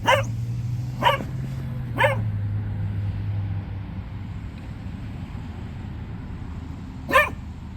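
A dog barks sharply three times in quick succession, then once more after a pause, fairly close, over a low hum.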